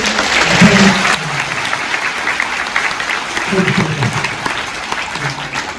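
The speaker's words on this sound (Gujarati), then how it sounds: "આપણે સારા પરિવારોથી એક વખત જોરદાર તાળીઓ પાડીએ" Families at a school prize-distribution ceremony clap strongly together. The applause is loud and continuous, and voices can be heard talking and calling out over it at moments.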